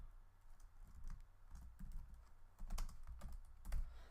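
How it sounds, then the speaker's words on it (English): Quiet, uneven typing on a computer keyboard, irregular bursts of key clicks with brief pauses, close and soft, with no talking. "I'm not a very good typer"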